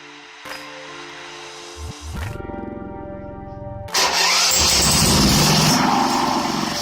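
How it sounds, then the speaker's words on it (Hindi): A generator is started in manual mode with the start button: a short click and whir, then a few seconds of steady cranking, then the engine catches and settles into a loud, even running roar. "मैनुअल मोड में जब स्टार्ट का बटन दबाएंगे तो जनरेटर स्टार्ट हो जाएगा"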